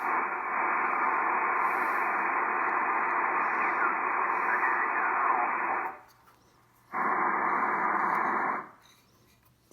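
Drake R4C shortwave receiver with 6HS6 mixer tubes, tuned to the 20-meter band, hisses with a steady band of static noise that cuts out briefly, returns, then drops away near the end.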